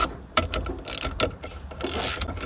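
A ratchet works the center part of a loose tilt steering column on a 1988 Chevy pickup, giving a run of close, sharp clicking bursts with short pauses and no talk.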